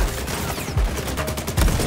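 Bursts of rapid gunfire in the video game XDefiant crackle loudly in quick succession, with heavy low thumps punctuating the shooting.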